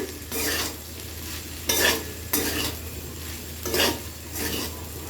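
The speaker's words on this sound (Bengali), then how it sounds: "তো সাবুটা দিয়ে সবজির সাথে একটু সময় নিয়ে ভেজে নেব।" Soaked sago and vegetables are stir-fried in a pan, with a spoon scraping the pan in several rhythmic strokes over a steady soft sizzle.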